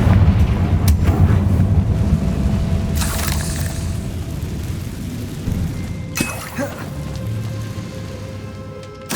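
Explosive Confringo fire spells in the Hogwarts Legacy video game, with sharp blasts around three and six seconds over a steady rumbling game ambience with crackling debris.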